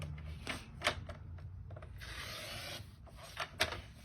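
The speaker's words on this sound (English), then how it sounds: "Let's go ahead and trim this off right now." Excess cardstock being trimmed off a handmade Christmas card: dry rasping, scraping cutting strokes with a few sharp bursts and one longer steady rasp, close and fairly quiet.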